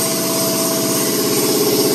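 The compressor of a spray foam insulation rig runs steadily with a constant mechanical hum and rapid vibration throughout, with no talk.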